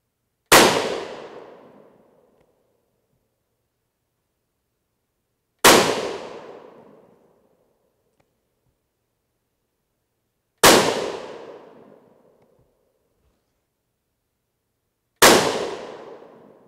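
Four loud .223 Remington rifle shots, loaded with 40gr V-Max bullets over N133 powder, fired about five seconds apart outdoors, each a sharp crack trailing into a fading echo, with no talking.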